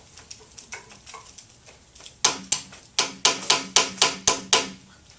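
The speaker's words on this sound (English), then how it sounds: "Banana, yes, is literally hard enough to hammer in a nail." A frozen banana is used as a hammer to drive a nail: a run of sharp, hard knocks, a few light taps and then about eight loud, evenly spaced strikes.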